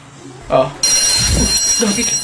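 School fire alarm suddenly starts ringing after a brief moment of talk, a loud continuous electric bell that sustains to the end, close and piercing, with voices reacting under it.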